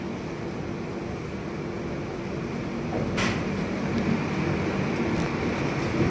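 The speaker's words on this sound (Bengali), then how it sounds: "তো কলকাতা স্টেশন ছেড়ে এগোচ্ছে ট্রেন।" A Kolkata–Gorakhpur passenger train pulls out of Kolkata station, heard from inside as a steady rumbling roll with a faint metallic clack partway through, growing slightly louder, and no talking.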